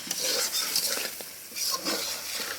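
A curry being stirred and sautéed in a pot, with soft sizzling and scraping spoon strokes against the metal, fairly quiet and close, in short bursts.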